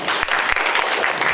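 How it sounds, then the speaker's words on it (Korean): A student audience at a Gwangju academic club presentation contest claps in a short, loud burst of applause, close and dense, with a few sharper individual claps. "큰 박수 부탁드립니다"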